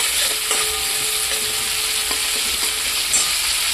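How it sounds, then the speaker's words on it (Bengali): Ginger and green chili paste fry in a pan for kachori filling, giving a loud, steady sizzle with light scraping and tapping of a spatula as it is stirred. "আদা কাঁচা লঙ্কা বাটাটা আমি ভালো করে ভেজে তারপরে আমি মটরশুঁটি পেস্টটা দিয়ে দেবো।"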